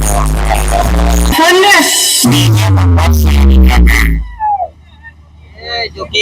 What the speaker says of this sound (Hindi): तो अभी आप लोग को दिखाते हैं इस डीजे की टेस्टिंग